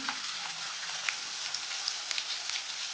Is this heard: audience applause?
no